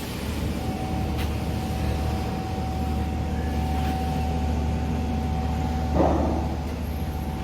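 Inside the economy-class cabin of a passenger ferry at Tanjung Kalian, Bangka, bound for Palembang, a constant low engine drone and a faint steady hum fill the space, unchanging and without talk.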